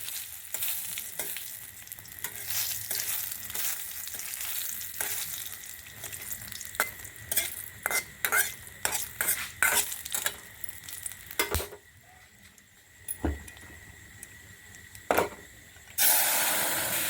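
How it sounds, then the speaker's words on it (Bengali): Dried red chili, fennel seeds, whole garam masala and bay leaf crackle in hot oil as a tempering for dal, a busy sizzle with many quick pops and stirring scrapes, easing off before a final louder burst of frying. "এখানে ফোড়নে আছে হচ্ছে তোমার শুকনো লঙ্কা, তারপরে মৌরি, গোটা গরম মশলা, তেজপাতা, এটা দিয়ে ডালটা ফোড়ন দেবো।"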